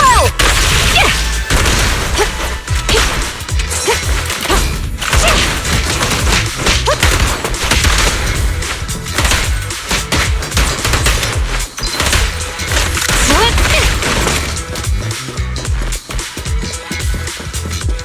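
Rapid gunfire in Zenless Zone Zero, dense bursts of automatic shots and heavy thuds hammering almost continuously, loud and close, with brief dips between volleys.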